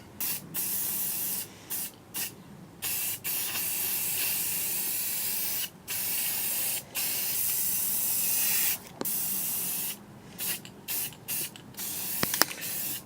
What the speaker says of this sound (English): spray the entire base with a Seaside Blue.